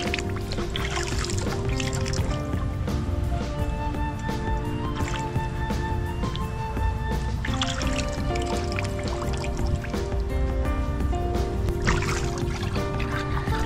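Water sloshing and splashing continuously while a husky is bathed, with irregular drips and trickles over a steady wet background, fairly close and moderately loud.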